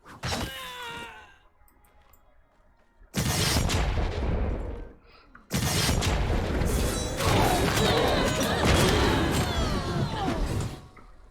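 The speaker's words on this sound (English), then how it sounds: "She was shooting fire." In the action RPG Wolcen, an enemy shooting fire produces loud bursts of roaring, crackling blasts and booms. A short burst comes first, then two long, dense stretches of fiery combat noise after a quiet gap.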